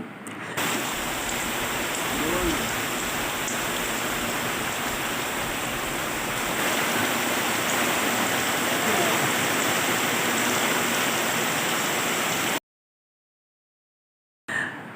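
Unseasonal rain falls on paddy farmland in Bhandara district, a steady, even hiss of water that holds constant before cutting to silence near the end.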